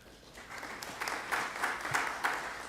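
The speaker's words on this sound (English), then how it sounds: "let's once again welcome Mr. Sanjay Sethi with a warm round of applause." Conference audience at an agricultural biotech summit gives a modest round of applause for a speaker, fairly distant and soft, with a few louder bursts of clapping.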